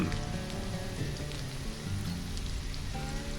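Rain falling in the video game Stranded: Alien Dawn, a steady dense patter of drops on surfaces, even and continuous with faint tonal game sounds mixed in and no talking.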